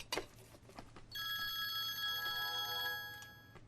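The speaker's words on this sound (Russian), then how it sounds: "Это твой телефон?" A phone ringtone starts after about a second and keeps sounding as a steady, bright electronic ring with layered tones, fairly close, over a low background hum, with no talking.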